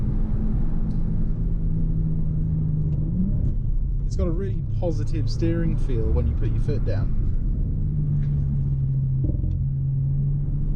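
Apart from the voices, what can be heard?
Audi RS5 car engine driving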